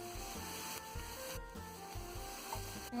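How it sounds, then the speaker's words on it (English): Soft, continuous sizzling of onion and garlic frying over high flame, with scraping and rubbing from a utensil stirring in a pan, fairly quiet and close. "You can see here onion and garlic is frying together."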